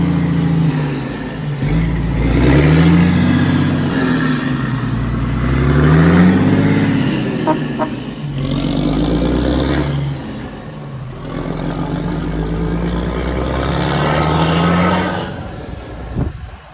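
A Chevrolet Meteor car engine revs repeatedly, rising and falling in strong mid-pitched waves, then drops into engine braking, loud and close throughout.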